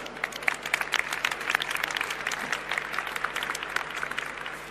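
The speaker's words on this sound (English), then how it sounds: "let's give him a round of applause" A large audience at a technology event applauds Demis Hassabis, with a sustained field of claps heard from a moderate distance at low level.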